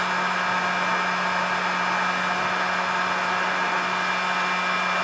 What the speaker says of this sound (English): Give that one little final blast of heat.